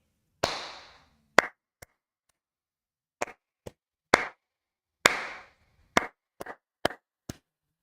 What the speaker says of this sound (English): if I just clap it as is without counting,